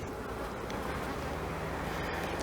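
Honeybees buzz in a dense, continuous drone inside a hive that has swarmed, the remaining half of the colony loud and close, with no talking.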